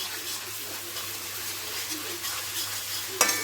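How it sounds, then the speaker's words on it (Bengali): Onion with ginger-garlic paste frying in oil in a pan on a high gas flame, a steady soft sizzle with stirring scrapes, close and continuous, ending in a sharper clatter near the end. "গ্যাসের ফ্লেমটা বাড়িয়ে দিয়ে আবারও ভালো করে কষে নেব।"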